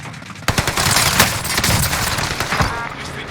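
Rapid gunfire from a multiplayer shooter video game rattles out in sharp overlapping bursts, loud and close, a fusillade of repeated shots over a couple of seconds.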